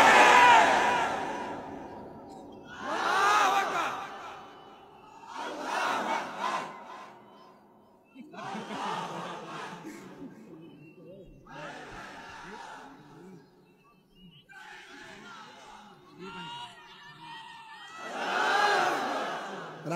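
Large crowd at a Bangladeshi Islamic mahfil gathering shouting slogans such as Allahu Akbar in loud, repeated bursts, each roar lasting a second or two with short pauses between.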